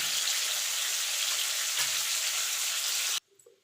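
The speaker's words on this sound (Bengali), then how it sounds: "আলুটা ভাজা ভাজা হয়ে গেছে" Potato pieces frying in hot oil, a steady loud sizzle with crackling that cuts off abruptly near the end, leaving brief quiet clatter.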